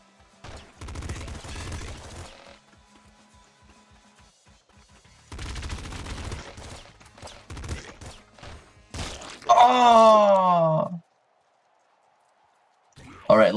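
Nuclear Throne's pop gun fires in quick rattling bursts of many rapid small pops, with pauses between the volleys and a warbling game tone near the end. Someone talks over the firing.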